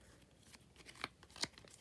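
Playing cards being shuffled close by, a soft continuous riffling with a couple of sharper clicks of cards, quiet and without voices.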